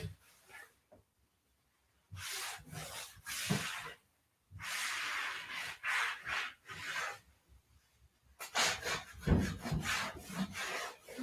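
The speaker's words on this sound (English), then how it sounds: "start wiping back all the black wax, kind of buffing it out a little bit" A rag rubbing and buffing black wax on a wooden desk, close-up, with repeated hissing wiping strokes in bursts separated by brief pauses.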